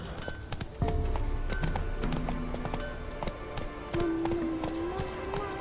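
Game horse galloping in The Witcher III, with continuous rhythmic hoofbeats over a music bed and a brief whinny-like tone partway through.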